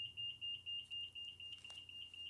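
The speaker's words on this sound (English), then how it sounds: "so we have a fire alarm going off" A fire alarm beeps in a steady rapid pulse, a high piercing tone repeating about every quarter second, quiet and somewhat distant, with no talking.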